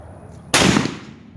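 A 45-70 Govt. rifle fires a single loud, close shot at a target, a sharp crack followed by a short decaying echo, with no talking.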